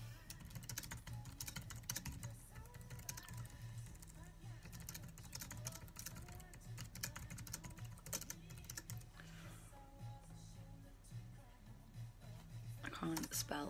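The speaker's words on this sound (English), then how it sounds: "I can't spell when I'm typing." Rapid clicking of a computer keyboard being typed on continues throughout, close and fairly soft, with some quiet background sound alongside.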